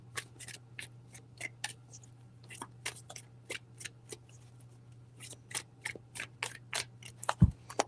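Tarot cards being shuffled in quick, sharp, crisp riffles and taps, close and quiet over a low steady hum, with irregular pauses between bursts.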